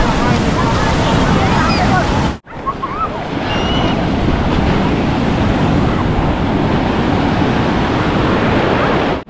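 Sea waves wash steadily onto Radhanagar beach on Havelock in the Andamans, a loud, continuous surf roar with wind buffeting the microphone and a brief dropout partway through.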